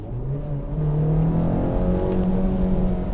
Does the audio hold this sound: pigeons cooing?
no